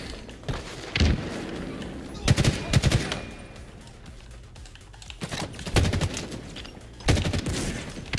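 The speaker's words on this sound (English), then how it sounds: "I'm getting shot at every damn angle" Gunfire in the video game Halo Infinite: loud, rapid bursts of automatic fire that come in several separate volleys over a steady background of game noise.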